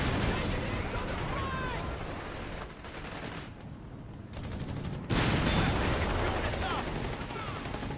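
Anti-tank guns fire in a Company of Heroes 3 battle, a dense stream of overlapping gunshots and bursts amid rumbling battle ambience, briefly thinning then surging louder, with a commentator's voice talking over it.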